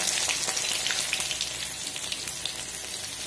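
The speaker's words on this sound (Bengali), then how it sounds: "এখানে আমি ফোড়নে দেব পাঁচফোড়ন আর শুকনো লঙ্কা, আর দেব যে রসুন আমি একটু থেতো করে রেখেছি" Panch phoron, dried red chilli and crushed garlic fry in hot oil, giving a steady close sizzle scattered with small crackling pops, moderately quiet and with no talking.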